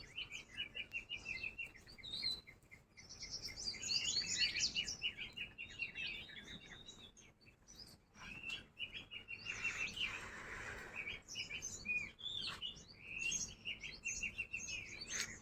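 Sparrows chirp in village trees at dusk, a busy chorus of short high tweets and chatter near and far, continuous with fluctuating density and no talking.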